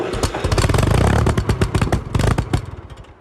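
Close by, a Ferguson 35 tractor engine runs after a carburetor fix, loud and uneven, chugging and surging with rough clattering bursts that rise and fall, and no voices.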